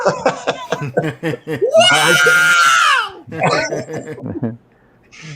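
A voice imitates the R2-D2 droid's shrieking yell from Star Wars, a loud warbling screech in the middle framed by excited chatter from him before and after.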